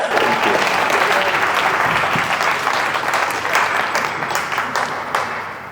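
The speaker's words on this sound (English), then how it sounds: "Please give a round of applause" A full audience gives a sustained round of applause, a thick, even wash of clapping that holds steady throughout and eases slightly toward the close.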